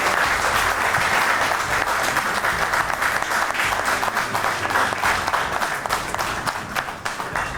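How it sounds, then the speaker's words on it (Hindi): Enthusiastic audience applause at an Eid mushaira poetry gathering, a loud sustained wash of many clapping hands that stays dense for several seconds and tapers slightly toward the end, with no speech over it. "आपकी ढेर सारी तालियों के साथ"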